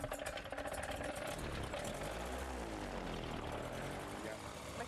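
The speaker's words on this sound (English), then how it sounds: "Time to fire up VK's engine." A gyroplane's propeller engine cranks and starts, its droning pitch sweeping as the propeller spins up to a steady, loud, close idle on the ground, with faint voices.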